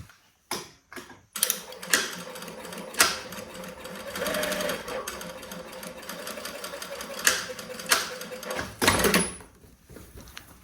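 A sewing machine stitches a dress seam in fast mechanical bursts, its rapid rattling clatter starting and stopping several times between short pauses, with quieter handling sounds in between.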